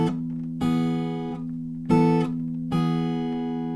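Acoustic guitar strums two chords of a song's riff, with four ringing strums spaced about a second apart, each sustaining and fading, played alone and close with no talking.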